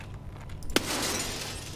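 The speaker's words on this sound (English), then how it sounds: "Shoot the glass" Glass shatters sharply in Escape from Tarkov after a gunshot, with a bright burst of breaking shards followed by a lingering hissing spray of debris.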